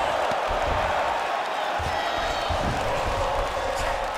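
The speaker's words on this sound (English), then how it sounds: "big pop from the crowd as they get back to their feet" A UFC 5 video game arena crowd roars in a sustained, loud wash of cheering that holds steady from start to finish.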